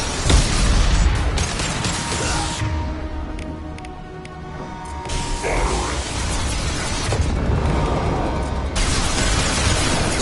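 Biotic Charge impact in Mass Effect 2 combat, a loud booming burst with rumbling explosive noise at the start, a quieter stretch in the middle, then dense crashing roar returning around five and eight seconds.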